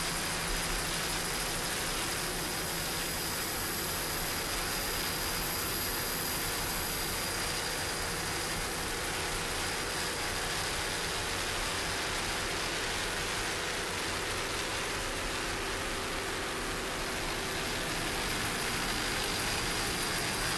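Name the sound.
offshore powerboat racing engines at Ocean City, Maryland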